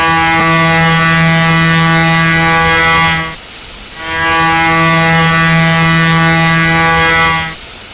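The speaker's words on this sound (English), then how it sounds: "Instead, she has an air horn." Air horn on a Pennsylvania Railroad S1 steam locomotive in Train Simulator, two long loud blasts of a rich chord separated by a brief pause.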